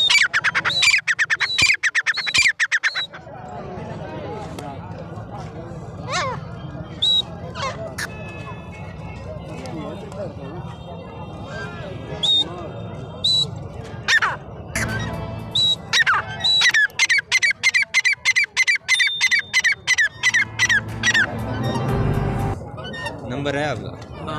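A Gray Francolin (safed teetar) at a bird market gives loud, harsh, repeated squawking calls, first in a scattered opening burst and later in a rapid rhythmic series, with people talking in between.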